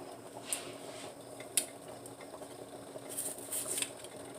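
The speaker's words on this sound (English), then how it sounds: "And you can just cut the onion." A knife cuts an onion on a kitchen board, giving a few faint, scattered clicks and taps against a quiet room background.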